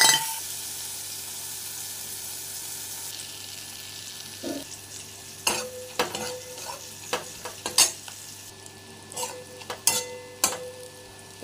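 Gule (chengo) fish fat frying with garlic-ginger paste, salt, turmeric and chilli powder in a pan, a steady sizzle broken by repeated clinks and scrapes of a stirring spoon, close and without talk.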